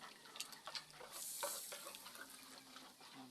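Coconut milk being stirred into a pot of dinuguan, a Filipino pork blood stew, giving a soft continuous wet scraping and gentle bubbling sizzle with a brief swishing surge midway.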